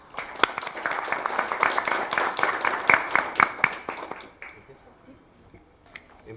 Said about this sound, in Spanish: Recibámoslos con un fuerte voto de aplauso